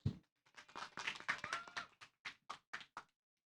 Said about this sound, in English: Give a big applause to Caroline